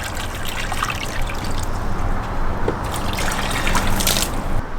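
Water trickling and pouring into a plastic seedling tray for growing vegetable seedlings, a steady close liquid stream running for the whole stretch with no talk.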